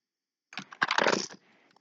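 A burst of keystrokes on a computer keyboard fills about one second of a spreadsheet data-entry session: quick, close clicks in a tight cluster, then a few isolated taps before quiet.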